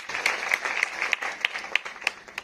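An audience applauding a tabla player at a memorial music event, a brief burst of light, scattered clapping with a few sharper individual claps standing out, moderately close and without talk.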